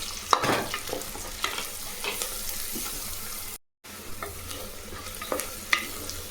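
Onions with green chilies and chili powder sizzle in a pan under steady spatula stirring and scraping, close and moderately loud, broken by one brief silent gap partway through, with no voice.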